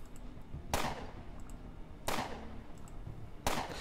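Gunfire in the game Underrail: three sharp single shots spaced about a second and a half apart, each a crisp crack with a short fading tail over a quiet hum.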